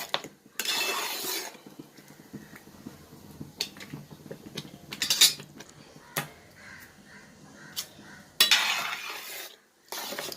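Jackfruit and jaggery jam being stirred in a pan, with scraping strokes of a spoon against metal coming in bursts between quieter pauses, close and fairly loud, with no one speaking.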